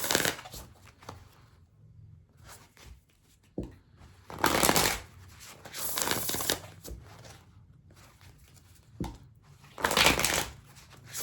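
Oracle cards are shuffled by hand for a tarot reading, in several loud riffling bursts separated by softer card handling and pauses, close up with no speech.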